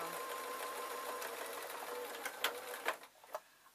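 A sewing machine runs a short burst of stitching on a fabric crayon roll, its fast needle whirr fading into a few separate clicks as it slows and stops; quiet and close.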